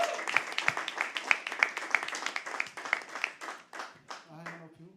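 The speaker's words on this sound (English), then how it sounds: "Keep clapping till he comes on stage." A small crowd at a live poetry open mic claps as a performer comes on stage, with uneven, fairly close hand claps that thin out while someone speaks over them.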